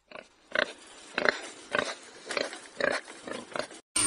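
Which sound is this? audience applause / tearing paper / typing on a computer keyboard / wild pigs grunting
wild pigs grunting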